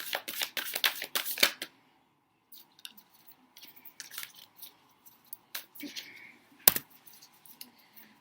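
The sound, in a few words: tarot cards being drawn and shuffled from a deck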